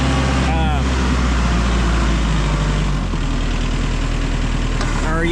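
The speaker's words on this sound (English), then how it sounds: "when you give it go juice for your hydrostat, it automatically revs your tractor up too" Kubota L4060 compact tractor with hydrostatic drive and auto throttle advance, its engine running steadily and rising in revs as the pedal is pressed, loud and close, with a brief squeal near the start and end.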